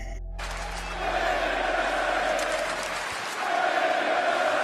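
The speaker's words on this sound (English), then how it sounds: "The crowd showing their love for women's wrestling" A crowd at a women's wrestling event in the Hammerstein Ballroom cheers loudly and continuously, a dense wash of yelling and applause that briefly dips and then swells again.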